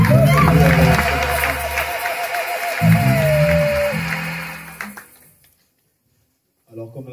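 A church congregation at a Sunday service claps and cheers loudly, then fades into silence before a voice resumes.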